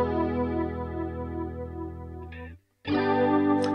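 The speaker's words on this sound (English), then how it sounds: "just so we can hear the flanger without the reverb" Electric guitar chord ringing through a flanger with the reverb switched off, a sweeping whooshing tone that sustains, cuts out abruptly for a brief gap, then strikes again loud and alone.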